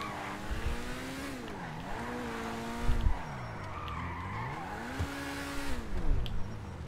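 A car's tires skid and squeal in the GTA V Online video game, with a long wavering screech rising and falling over engine drone, loud and continuous throughout.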